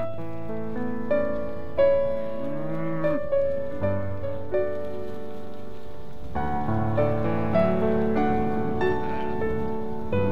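Cattle on a South Carolina farm moo repeatedly, with several drawn-out, tonal calls from different animals overlapping at close to middle distance over a soft background patter.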